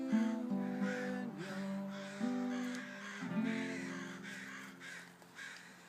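Several harsh crow caws repeat in a slow, irregular series, moderately close, over a faint background hum.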